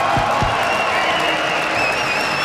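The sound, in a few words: esports arena crowd cheering and applauding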